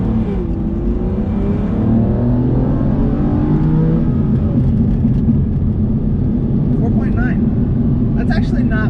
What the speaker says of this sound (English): let's see if we can get a better launch this time.